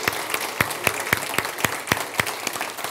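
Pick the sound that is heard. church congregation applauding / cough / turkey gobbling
church congregation applauding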